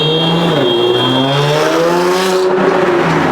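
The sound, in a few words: cars racing on Fordham Road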